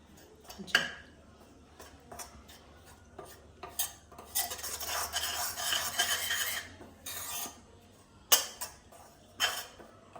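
Ingredients being dry-roasted in a pan and stirred with a metal spoon, giving intermittent scraping clinks and rasps with a soft sizzling stretch in the middle, close and fairly quiet.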